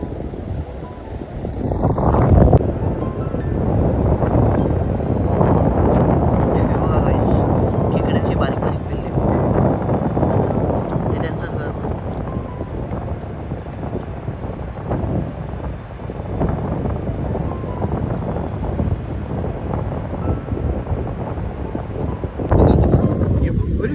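Monsoon seashore on the Konkan coast: heavy wind buffets and roars, with the broad wash of sea waves underneath, loud and continuous throughout.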